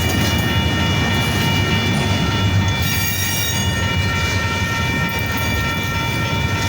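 Two freight trains, including an intermodal, roll past together at close range, a loud continuous rumble of wheels on rails with clanking cars and faint high squealing throughout.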